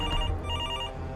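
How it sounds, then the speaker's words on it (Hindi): A short electronic telephone ring in the video game Fears To Fathom, steady and tonal with a bright upper chime over a low hum, heard alone with no voices. "एक सेकंड, फोन कैसे बज रहा है?"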